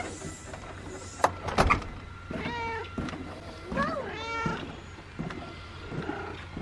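A cat meows several times up close, drawn-out wavering cries separated by short pauses, with a few clicks and knocks in the background.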